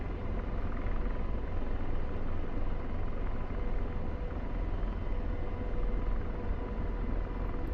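A steady, dense rotor and turbine rumble from a Chinook helicopter in the DCS flight simulator game, continuous and close with no break for the whole stretch.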